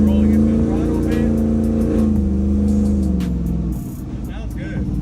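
A Ford F100 truck with a swapped Coyote V8 and 3.0 Whipple supercharger revs loudly up close, its steady throttle roar rising and easing before dropping off briefly near the end. A voice talks faintly underneath.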